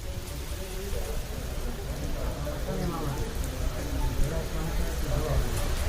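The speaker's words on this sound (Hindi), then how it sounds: "जहां पर तेज हवाएं भी चल रही हैं और बारिश का दौर भी जारी है" Steady rain with gusting wind from Cyclone Tauktae in Gujarat, a dense continuous wash of noise that holds fairly loud for the whole stretch, with speech faintly mixed in.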